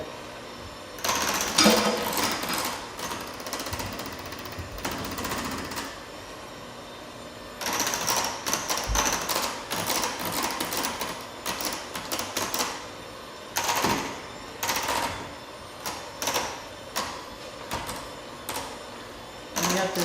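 An electric mixer works dough in a large bowl, its motor running in uneven bursts with clattering knocks and pauses as the bowl is scraped, fairly loud and close.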